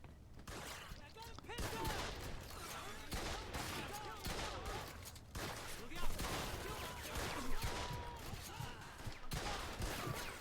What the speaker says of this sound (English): maybe the shotgun is not the way to do this